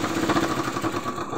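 A sewing machine stitches thin rope cord with a steady, close, fast mechanical chatter that runs evenly throughout, with no talking.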